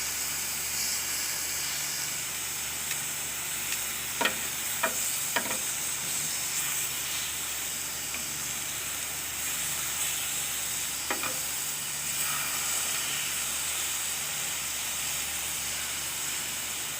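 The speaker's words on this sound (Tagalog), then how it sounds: "Bahagya lang natin siyang iihawin." Meat for dinakdakan grills lightly with a steady, even sizzle and hiss, broken by a few faint clicks and taps, close but fairly quiet, with no voices.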